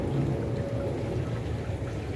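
Steady rain pours during tropical storm Noru in Bangkok, a dense continuous hiss of falling water with no break, fairly loud and close, with no talk over it.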